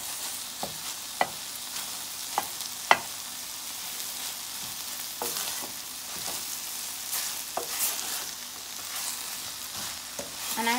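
Vegetables and soya chunks for chowmein stir-fried in a hot pan: a continuous sizzle broken by repeated sharp spatula scrapes and taps, with no talking.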